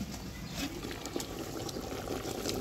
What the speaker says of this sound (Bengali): বলক আসছে, একটু নাড়া দাও।